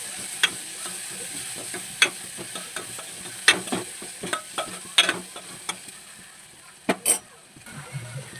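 A mango and cucumber curry seasoned with turmeric being stirred in a pan, a soft background sizzle punctuated by regular spoon scrapes and taps against the metal, close and moderately loud.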